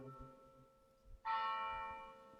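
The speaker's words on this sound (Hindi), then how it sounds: "बहुत सुरीला घंटी बजा। ब्यूटीफुल बेल, हाँ चर्च" A nearby church bell strikes once after a quiet moment, then rings on with a bright, sustained tone that slowly fades. Nobody speaks.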